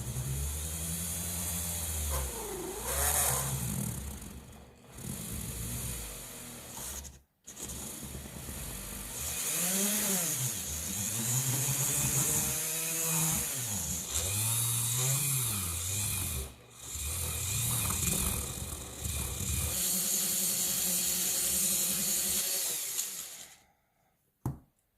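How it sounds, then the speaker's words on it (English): A small drill bores into the back of a miniature skeleton's head for a dollhouse lamp, its whine rising and falling in repeated bursts with a few brief pauses, loud and close. "I'm just going to slowly drill this out."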